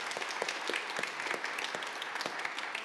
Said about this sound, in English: you're allowed to applaud, because I certainly am applauding